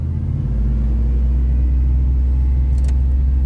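A truck engine running on a lawn mower fuel pump gives a loud, steady, deep rumble at close range, holding a fairly even idle-like drone without a clear rise in pitch.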